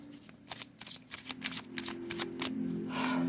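A deck of tarot cards is shuffled in a run of crisp riffling bursts, about ten quick flutters in a row, close and fairly quiet, ending in a longer soft slide as the cards are laid out.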